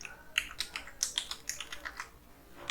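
Fingers type code on a computer keyboard in quick, irregular bursts of crisp clicks, close and clear against a quiet background with no talk.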